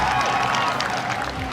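A crowd at a horse show jumping event in Camden, South Carolina breaks into brief, dense applause and cheering. The clapping is mixed with crowd noise throughout the short burst.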